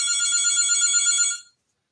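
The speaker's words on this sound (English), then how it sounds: "I was hoping that phone would not ring during the show." A telephone rings with a steady electronic trilling tone for over a second, loud and alone, then cuts off abruptly into silence.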